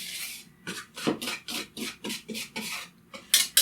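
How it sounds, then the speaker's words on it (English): A whisk scrapes and taps around a bowl, blending salt and baking powder in roughly ten quick rhythmic strokes, close and moderately loud with no talking. "Just kind of whisk that enough just to get it mixed together"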